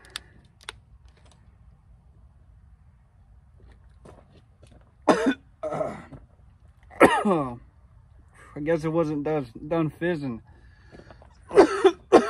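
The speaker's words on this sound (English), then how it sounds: "Man, I shouldn't be coughing." A man coughs several times in short bursts between quiet stretches, with a few light clicks and some brief speech mixed in.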